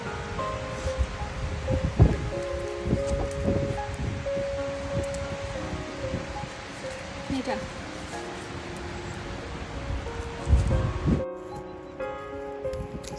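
Strong wind gusts through a Danish forest during mushroom picking, a rough, continuous rush of air and rustling leaves buffeting the microphone, with someone talking over it throughout.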